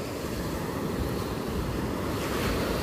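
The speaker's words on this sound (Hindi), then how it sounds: "लेकिन सबसे प्यारी चीज़ है भाई समुद्र" Sea waves at Calangute beach in Goa, a steady loud wash of surf breaking and rolling in, continuous hiss and roar close by with wind noise.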